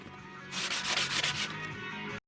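Sandpaper rubs small plastic parts for a 1/14 scale lowboy trailer smooth, a close, steady scratchy rasp of quick back-and-forth strokes that swells after a brief start and runs for about two seconds.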